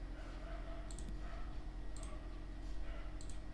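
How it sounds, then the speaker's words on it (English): Faint computer mouse clicks come in quick pairs, three double clicks spaced about a second apart, over a low steady background hum. "So now just double click to extract this zip file."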